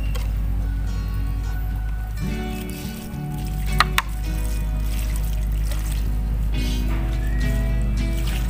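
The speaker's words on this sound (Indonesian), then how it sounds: "Sekarang kita siram tanaman philodendron linnet ya." A Philodendron Lynette houseplant is watered, with a steady trickling pour of water running through the soil under a constant low hum, plus a couple of brief clinks midway.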